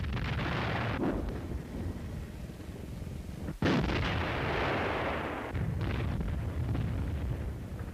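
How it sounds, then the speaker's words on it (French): Continuous German Wehrmacht artillery barrage of 1941, loud, dense booming fire rolling without pause, with a brief dip before the heavy thunder resumes. "Un tir de barrage continu débuta alors"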